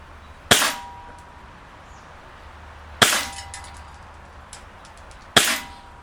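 A Cybergun KWC Colt M1911 A1 CO2 blowback airsoft pistol fires three sharp, loud cracks a few seconds apart outdoors, each followed by a short clattering decay.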